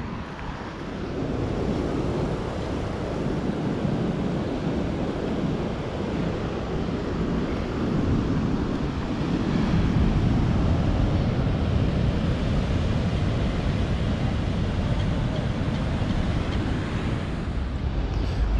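Surf rolls continuously onto a Cape Town beach while wind buffets the microphone, making a broad, steady roar that swells slightly partway through, with no voices.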